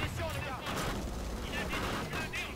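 Rapid gunfire bursts from a weapon in the PS4 shooter Killzone: Shadow Fall, loud and continuous across the short span, with a voice partly mixed in beneath the shots.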